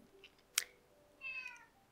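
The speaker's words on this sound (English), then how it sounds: "Please ignore the cat in the background." A cat meows in the background of a quiet room: a short sharp click, then one clear, faint, drawn-out meow.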